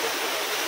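Kakolat waterfall in Nawada, Bihar, a steady loud rush of falling water, broad and continuous with no breaks and no voices.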